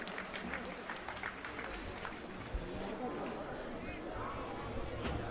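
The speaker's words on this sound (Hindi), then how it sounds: "एक बार जोरदार तालियों से हम सब उनका स्वागत करें।" Crowd at a Sanatan Dharma gathering at the Mahakumbh claps loudly to welcome a speaker, a thick continuous roar of applause with a murmur of voices mixed in.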